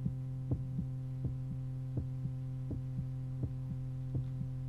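A steady heartbeat thumps in a regular lub-dub rhythm, about six beats under a constant low electrical hum, with no voices.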